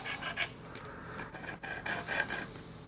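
Knife blade being sharpened on a Work Sharp Precision Adjust sharpener, raising a burr: quick back-and-forth rasping strokes of abrasive on steel, close and fairly loud, in short rhythmic bursts with no talking.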